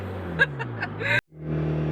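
A turbocharged Toyota Celica GT-S drives in town traffic, its steady engine drone and road noise filling the cabin, with brief sharp sounds and a short cutout partway through, and faint voices in the background.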